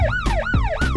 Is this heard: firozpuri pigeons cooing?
no